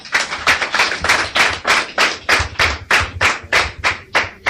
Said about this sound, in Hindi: ताली बजा इनके लिए।